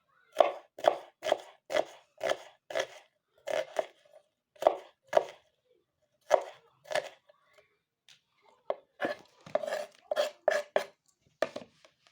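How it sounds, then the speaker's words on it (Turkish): Onions being chopped for tantuni: a run of crisp, evenly spaced knife strokes on a board, close and fairly quiet, with a short pause midway before a quicker burst of cuts. "Şimdi soğanlarımızı doğruyoruz içine"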